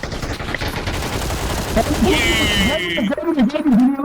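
Bursts of automatic gunfire in PUBG, rapid rattling shots mixed with game effects, with excited players talking loudly over them.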